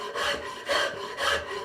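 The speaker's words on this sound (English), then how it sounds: "So I'm basically just taking off the facets I made with the sander here with the spoke shave." A spokeshave shaves down a forged axe's wooden handle, smoothing sander facets: three rhythmic rasping strokes, close and fairly loud, with short pauses between them and no talking.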